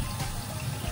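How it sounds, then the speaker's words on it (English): Running water splashes steadily as warm water rinses a face at a sink. It is a brief, continuous, close wash of noise with no pauses. "I do warm water first, and then I do cold water at the end."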